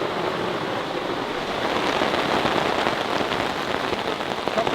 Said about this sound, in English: Oh, Jax, it's raining.